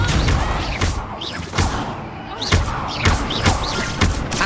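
Incendio fire spell cast in Hogwarts Legacy, heard as a series of loud, close thumping bursts with whooshing impacts repeating roughly every half second, game sound effects dominating.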